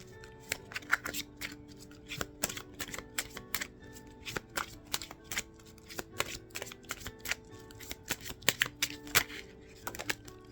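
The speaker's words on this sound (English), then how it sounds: "let me pull another card" Tarot cards being pulled, shuffled and handled close up, a rapid irregular series of crisp card snaps and flicks in a quiet room.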